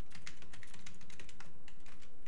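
Fast, steady clatter of keys on a computer keyboard as code is typed, close and crisp with many rapid keystrokes and no pauses.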